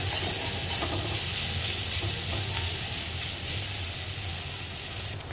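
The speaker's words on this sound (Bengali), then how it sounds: "মশলার কাঁচা গন্ধটা যাওয়া অবধি ভালো করে মশলাটাকে কষিয়ে নেব" Spice paste fries in oil in a pan for a fish curry, a steady close hiss and sizzle with faint stirring throughout.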